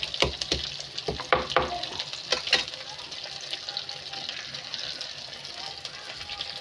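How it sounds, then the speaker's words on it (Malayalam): Crushed ginger, garlic and shallots sauté in a pan with a continuous soft sizzle, marked by stirring scrapes and clatters early on, fairly quiet throughout. "നമുക്കിതൊന്ന് നല്ലോണം വഴറ്റിയെടുക്കാം."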